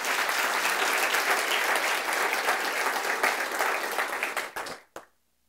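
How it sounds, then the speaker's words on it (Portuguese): Church congregation applauding together, dense close clapping that holds steady, then thins to a few last claps and stops abruptly into silence. "dê um aplauso forte para o Senhor Jesus"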